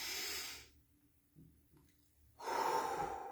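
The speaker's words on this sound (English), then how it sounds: "taking deep diaphragmatic breaths" Deep diaphragmatic breathing, a long airy exhale, a quiet pause, then a strong breath drawn in, close and alone.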